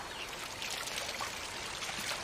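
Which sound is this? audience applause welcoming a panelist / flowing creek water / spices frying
flowing creek water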